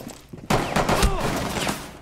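Gunfire rattles in a competitive PC shooter match, a dense burst of rapid shots and impacts erupting after a brief lull and continuing loudly under a commentator's excited speech.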